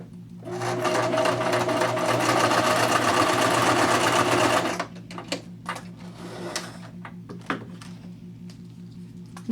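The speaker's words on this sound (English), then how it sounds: "I'm just going to start the stitch just a little bit above the butterfly, the yellow butterfly." A sewing machine stitches a straight line through a handmade paper card, a steady fast mechanical whirring for about four seconds, then stops, followed by quieter clicks and handling sounds.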